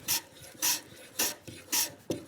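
A hand plane is pushed along a wood board in five rhythmic rasping strokes, each a short bright shaving hiss with quiet pauses between, heard up close.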